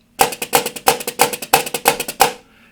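Rapid staccato snare flams played close together, short and clipped, about seven crisp strikes in a quick burst, then a brief fade.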